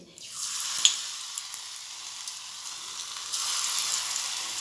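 Shrimp pakoras fry in hot refined oil, giving a steady, close sizzling hiss with a few faint clicks and a swell in intensity near the end, and no voices.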